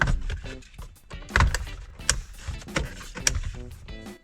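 Several sharp plastic pops and snaps as dashboard trim clips release from a 2007–2011 Toyota Camry during radio replacement, mixed with scraping and handling noises, close up and irregularly spaced.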